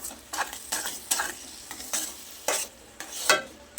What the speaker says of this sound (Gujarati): હવે જે આપણે કેરીનો પલ્પ રાખેલો ક્રશ કરીને એ ઉમેરી દઈશું. બધું સરસ મિક્સ કરી લઈએ એકવાર.